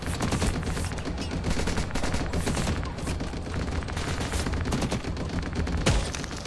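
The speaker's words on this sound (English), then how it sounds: "we're getting shot at, bro" Sustained, dense gunfire fills a shooter video game match on the new A6 Polaris map, with players under fire. Rapid overlapping bursts and shots continue close and loud without a break.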